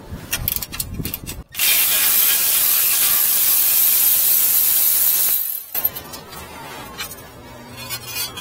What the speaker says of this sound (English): 30-mile-an-hour winds, that's perfect. Feel it? Feel that wind?